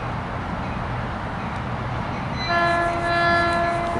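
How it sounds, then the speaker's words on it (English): A Caltrain passenger train rolls past with a steady rumble, then its horn sounds a sustained, loud chord partway through while the train noise continues underneath. "Here comes Caltrain"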